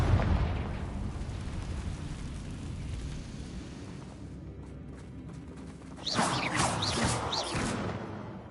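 Confringo blasting spell in Hogwarts Legacy, a fiery burst that rumbles low, then a second loud blast with a crackling, whooshing flare partway through, set over steady battle noise.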